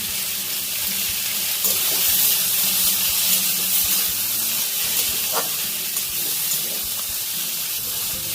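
Garlic, ginger, cashews and green chilies fry in a hot pan with a constant, even sizzling hiss that stays close and fairly loud throughout, with no talk.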